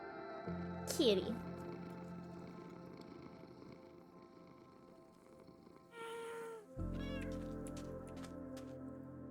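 A video-game cat gives a couple of meows, one early and another few after a quiet stretch, set against a constant bed of game music.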